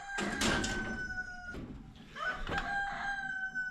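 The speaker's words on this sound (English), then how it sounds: "Oh, I love those chickens." Chickens cluck and a rooster crows nearby in two bursts, fairly quiet, with a short pause between them and no talking.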